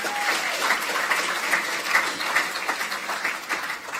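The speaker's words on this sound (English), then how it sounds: "Ms. Marsler and Mr. Benjamin, give them a round of applause." At a national youth awards ceremony, the audience applauds two young orators with a sustained, moderately loud round of clapping from many hands, continuous and even, with no talking over it.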